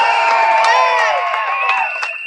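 A crowd at a political rally cheers loudly, with many overlapping voices shouting and whooping close by and a few sharp claps breaking through the continuous roar.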